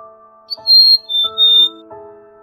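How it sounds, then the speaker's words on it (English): A quail call, a bright whistled squawk in several short tonal notes with a high gliding whistle over them, clear and close with no talking. "Quail."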